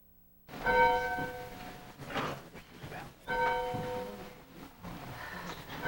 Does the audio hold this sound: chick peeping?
no